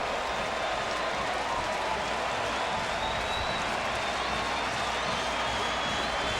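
Home crowd at a Cleveland Indians ALDS playoff baseball game against the New York Yankees, a loud, continuous roar of cheering and clapping from a large stadium audience, broad and steady throughout.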